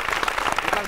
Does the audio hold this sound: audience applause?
yes